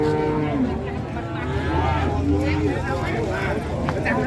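Cattle low and moo repeatedly at the Jetis Ponorogo cattle market, where Simmental bulls are traded; long harmonic calls rise over a busy crowd with voices talking throughout.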